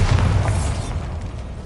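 Bombarda blasting spell explosion in Hogwarts Legacy: a single deep, loud boom that rumbles at the start and then decays into a fading low roar.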